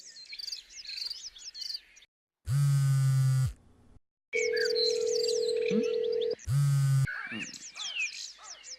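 A phone call rings out unanswered: two loud, long ringback tones a few seconds apart, each with a stepped buzzing pattern, while birds chirp steadily in the background around them.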